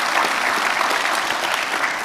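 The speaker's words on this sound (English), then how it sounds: "if we get a round of applause for LV, please" Conference audience applauding loudly at an annual awards presentation, a dense, sustained wash of clapping from a large crowd with no talking over it.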